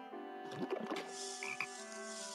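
A toad croaks twice in a fairy-tale narration, short rasping calls over a faint steady background hum, with no voices present.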